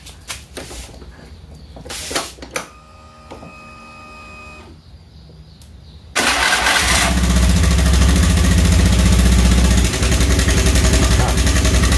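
A motorcycle engine with a noisy cam chain tensioner: a few clicks and a quieter mechanical hum, then it suddenly jumps to a loud, steady, rough roar that dominates the rest of the clip, close to the listener.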